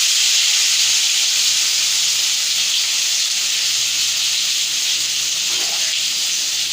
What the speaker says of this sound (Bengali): সিদ্ধ আলুগুলো আমি কড়াইয়ের মধ্যে দিয়ে দিই।